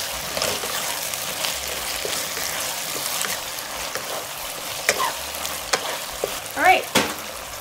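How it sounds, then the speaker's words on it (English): Onion and zucchini fry in a pan for black bean noodle sauce, giving a steady, close sizzle with occasional stirring scrapes and small pops. "And we're just frying this until it's slightly soft."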